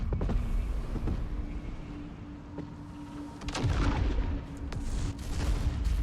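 Explosions go off during play in Baldur's Gate 3, as loud booms and crackling blasts over a dense, constant rumble, with a heavier burst about midway through.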